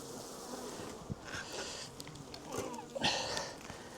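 Honeybees buzz close by at an open hive, agitated from being harassed by wasps, a steady droning hum with a few louder passes near the listener.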